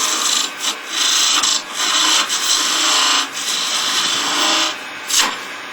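A skew chisel cuts spinning wood on a lathe, a loud, close, rasping hiss that runs in long strokes broken by brief pauses as the tool is lifted and re-engaged.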